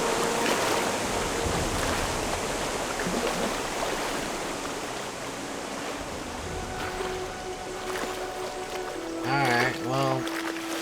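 Rushing waterfall water in the game Gothic 1 Remake, a steady loud broadband roar that fills the whole stretch, with a brief warbling tone and a voice rising near the end.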